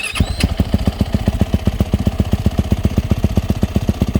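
A 2020 YZ450F dirt bike with a Dr. D aftermarket exhaust idles with a deep, throaty exhaust, steady rapid pulsing close by and loud.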